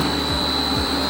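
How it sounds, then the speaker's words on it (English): A servo motor on a CNC wood rotary cutting machine (SK-520S) for ice cream sticks runs with a loud, steady whine and a constant high tone, up close. "It means the servo motor start working."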